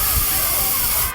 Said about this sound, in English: Deal with the cameras. Spray the lenses.